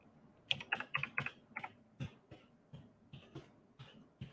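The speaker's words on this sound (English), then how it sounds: "I'm typing Castlevania." Quick irregular clicks of typing on a computer keyboard, a fast burst then sparser keystrokes, quiet and close.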